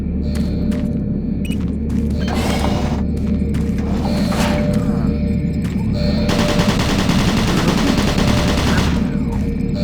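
Automated turret guns in Doom 3 fire in repeated bursts of rapid shots over a constant low mechanical rumble and hum, with a long sustained volley near the end.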